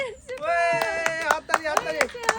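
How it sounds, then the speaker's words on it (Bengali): Hands clap in a steady run of sharp claps for a fruit-matching challenge game, the claps evenly spaced and coming under continuous talk. "হাততালি দাও না ভালো খেলছে হাততালি দাও"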